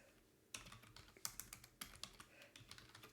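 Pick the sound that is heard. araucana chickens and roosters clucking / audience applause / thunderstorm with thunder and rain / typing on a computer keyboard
typing on a computer keyboard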